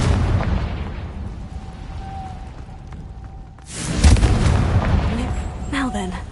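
A Confringo fire spell blasts off in Hogwarts Legacy, a loud booming burst rising out of steady background rumble, followed by crackling, fiery rumble and scattered pops.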